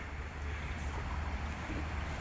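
A river flows back in its channel after a flood, a dense, steady rushing roar of water mixed with wind buffeting on the microphone, continuous and fairly loud throughout.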